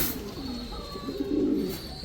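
Homing pigeons, imported-line Homer breeders, coo softly in a low rounded murmur close by, swelling toward the end alongside faint chirps, with no talking.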